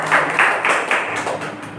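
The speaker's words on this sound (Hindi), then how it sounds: "इनके लिए एक हम जोरदार ताली चाहेंगे।" An audience at a real estate business event in India gives a short burst of applause, a few distinct, closely spaced claps standing out over a thin crowd of clapping that quickly tapers off.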